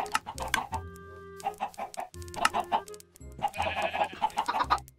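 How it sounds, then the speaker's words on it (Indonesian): Repeated clucking from a flock of chickens in the video game Minecraft, with several short calls overlapping in quick bursts throughout, fairly close and steady, with no talking. "ini gerombolan ayamnya udah pada masuk lagi"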